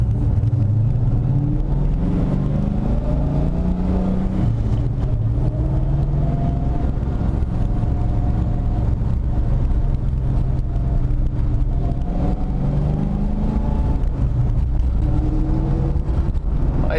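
Ford New Edge Mustang with a TKX manual transmission driving on the road, a steady engine drone and road rumble that rises and falls through gear shifts, heard from inside the car without talking.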